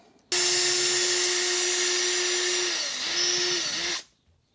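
A power drill boring 1.5mm holes through mounting tabs during a car stereo install, one loud continuous high whine lasting about four seconds with a brief dip in pitch before stopping.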